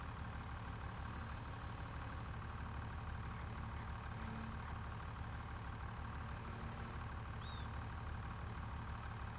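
Tractor engine idling in Farming Simulator 25 on a Missouri farm, a steady low rumble held evenly throughout at a modest level, alone with no talk.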